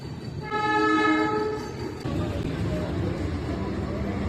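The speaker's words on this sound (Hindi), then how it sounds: "अब हमारी ट्रेन पहुँच रही है पलिया।" Metre gauge passenger train arriving at Palia railway station, with a loud, sustained horn blast over rumbling wheels that then continue steadily, close by.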